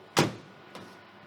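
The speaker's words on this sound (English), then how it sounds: "Close the door" Oven door swung shut after chicken thighs go inside, one sharp close thump followed by a softer click a moment later, fairly near in a quiet kitchen.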